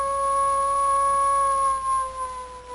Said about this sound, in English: Oh no, it's a werewolf.